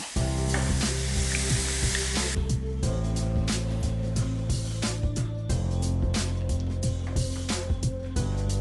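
Meat for ogbono soup sizzles loudly in a pot, a dense constant frying hiss broken by repeated clacks of stirring and scraping, with a faint tonal hum underneath.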